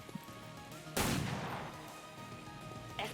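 Gunfire from soldiers in the XCOM 2 strategy game, a sudden loud shot burst around the one-second mark decaying into a rumbling tail, with a smaller crack near the end.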